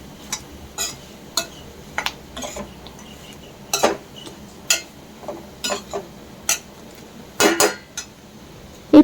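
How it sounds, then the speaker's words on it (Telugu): Fried bitter gourd is stirred with chilli powder in a pan, a spatula knocking and scraping against the metal in irregular sharp clinks, close and alone over a faint low hum. "అంతటిని కలిసే వరకు బాగా కలుపుకోవాలి"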